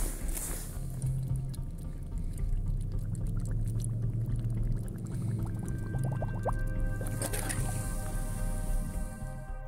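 Siberian lake water pours and gurgles into bottles being filled by hand out on the ice, with close glugging, dripping and squishing over about ten seconds; no one speaks.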